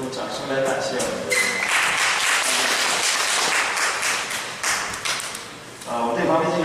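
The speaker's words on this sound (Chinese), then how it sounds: "用掌声来感谢我们的" A congregation at a Sunday church service breaks into sustained, dense applause to thank God. The clapping swells after a spoken opening, holds steady for several seconds, then fades as a voice resumes.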